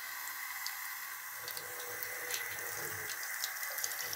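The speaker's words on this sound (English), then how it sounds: "we're gonna put some water running in." A faucet runs warm water to rinse a stiff new brush, a quiet steady hiss and splash of flowing water that continues without break and with no voices.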